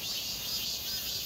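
Cicadas sing loudly on a sunny summer day, producing a continuous, high-pitched buzzing drone that holds steady throughout.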